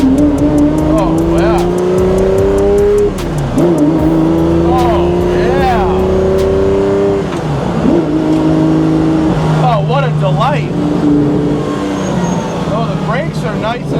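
A Lamborghini Diablo GTR runs hard around a racetrack, its engine climbing through the revs in repeated rising pulls with sharp drops at each gear change, loud and close, while a man exclaims over it.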